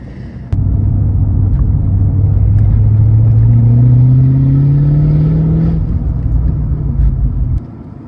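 A modified Ford Mustang Foxbody runs with a loud, steady engine drone whose pitch climbs gradually as it drives, then cuts off abruptly near the end.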